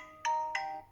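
A Motorola Edge 30 Neo smartphone plays a ringtone preview, two quick bright electronic chime tones close together, clear and alone.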